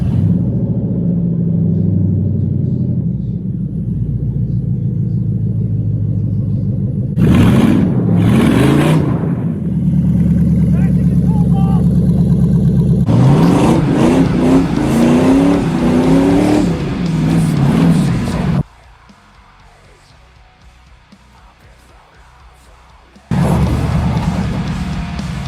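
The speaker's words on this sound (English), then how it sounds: "So let's go take it for a test drive again and see what happens." A cheap home-built rat rod hot rod on a test drive, its engine revving hard in loud, rising bursts with throttle swells, dropping to a quiet idle for a few seconds before roaring up again.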